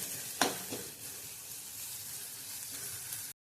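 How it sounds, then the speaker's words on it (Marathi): Malvani masala spices sizzle steadily in hot oil for a chicken liver dry fry, with a sharp spoon scrape near the start and a softer stir soon after over the continuous frying hiss. "तेलात हे मसाले चांगले भाजून घेऊया। चांगले मसाले तेलात परतून घ्यायचे।"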